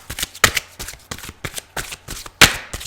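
Tarot cards being shuffled close up in a series of quick riffling bursts, irregular in rhythm, with no voices.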